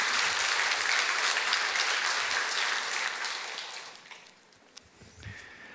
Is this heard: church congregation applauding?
yes